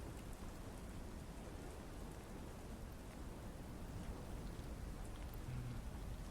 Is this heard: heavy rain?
yes